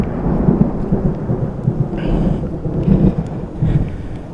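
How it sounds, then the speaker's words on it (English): Low rumbling thunder rolls through a steady wash of rain, loud and close, with no voices. "Yeah, it's a bit of a thunderstorm."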